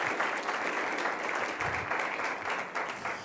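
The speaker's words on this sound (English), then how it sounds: "So let's give a round of applause to our panel." Audience members at a marijuana debate applaud the panel, a dense, steady round of clapping from a sizable crowd that carries evenly throughout at moderate distance.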